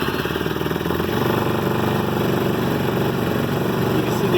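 A vehicle engine revs steadily at high RPM in neutral after a clutch installation, a loud, continuous mechanical drone that holds without a break and has no talk over it.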